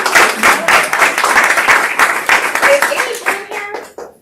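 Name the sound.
applause at team meeting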